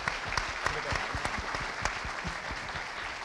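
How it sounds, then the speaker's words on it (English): A room full of people at an awards evening claps steadily, a dense patter of many hands at moderate volume that carries on without pause. "round of applause for Matty, please."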